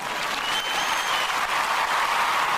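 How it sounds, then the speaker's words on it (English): An audience claps in a sustained, dense burst of applause, loud and even throughout with no speech over it. "Let me give her a clap."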